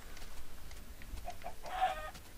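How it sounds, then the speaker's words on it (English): Chickens in the video game Minecraft cluck in a few short, fairly close bursts, the last one louder and fuller, over a low background hum with no talking. "The chickens."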